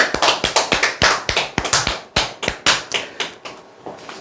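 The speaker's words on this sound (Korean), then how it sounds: "박수 한번 치시죠." A small group clapping in a brief burst, individual claps distinct and rhythmic, tapering off toward the end.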